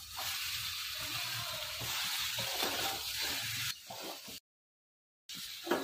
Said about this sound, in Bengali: সোয়াবিনটা ভালো করে ভেজে নিব। মশলার সাথে ভালো করে ভেজে নিব।